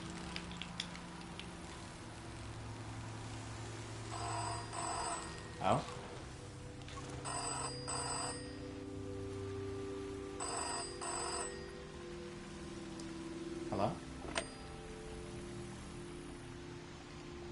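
A telephone rings repeatedly in the game Season: A Letter To The Future, bursts of bright electronic ringing separated by pauses, over soft ambient rain and music, with a brief spoken exclamation.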